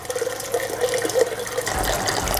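Rinse water at 75 Celsius poured during beer brewing, a steady close splashing stream of liquid filling a vessel, continuous and fairly loud with no talking.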